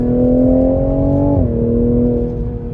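A 2021 Toyota Supra GR cruises along a road with a steady, loud engine drone whose pitch holds, dips slightly as it shifts, then settles into an even hum, heard from inside the car without talk.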